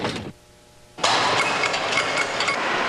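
A car engine turns over sluggishly in -35°C cold with oil too thick, then catches and runs with a loud, rough, busy roar after a brief quieter gap.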